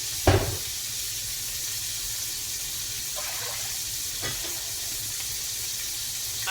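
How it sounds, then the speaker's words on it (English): Dishes being cleared at a home kitchen sink after frying chicken, with a steady low wash of running water and a few brief clinks and knocks, one sharper clatter near the start, no talking. "I'm going to clear out my dishes here."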